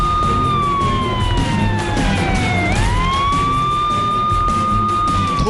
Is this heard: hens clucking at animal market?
no